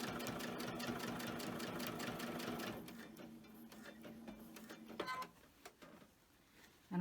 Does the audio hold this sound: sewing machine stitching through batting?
yes